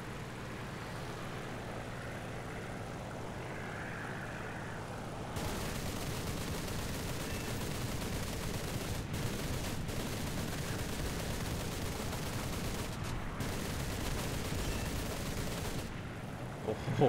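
Aircraft guns on a J2M2 fighter fire in long sustained bursts in War Thunder, over a steady engine drone with brief pauses between volleys.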